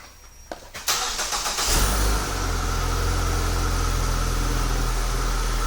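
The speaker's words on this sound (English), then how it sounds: "We're going to activate remote start." A Ford vehicle's engine is started through a remote start module: a short cranking burst catches within about a second, swells briefly, then settles into a steady, close idle that continues to the end.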